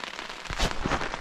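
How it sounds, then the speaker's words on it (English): Rain patters steadily on a Naturehike Mongar 2 lightweight tent during an early-morning wild camp on the Long Mynd, a dense, crackling spatter with a few sharper drops close overhead. "this rain is forecast for a few more hours yet"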